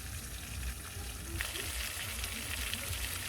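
Ground spices fry in oil in a pan for a meat curry, giving a steady close sizzle with bursts of crackle and occasional stirring, while a person talks.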